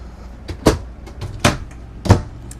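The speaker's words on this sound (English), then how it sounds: "this little door here is actually part of the same closet" A small closet door inside a 2021 Coachmen Encore 355OSF RV swinging open and shut, giving three separate close wooden knocks and clicks spaced roughly a second apart in a quiet interior.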